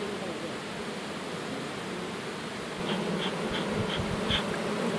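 Honeybees buzzing while working around beehives at an apiary in Azerbaijan, a dense continuous hum that swells louder partway through, with a few faint higher tones over it and no speech.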